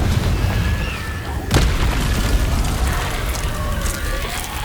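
A Confringo fire spell explodes in the Hogwarts Legacy video game as a sharp, booming blast rising out of a dense, steady roar of battle noise.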